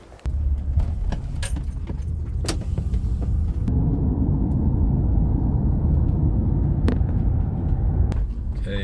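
A car drives in Mexico on the way to a rural jungle property. A steady, dense road rumble and engine drone fill the cabin throughout, with a few brief clicks and rattles and no voices.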